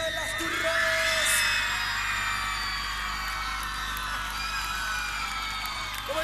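A crowd of fans at a live cumbia show shouts and cheers loudly and continuously, with a steady music bed underneath and no clear individual voices.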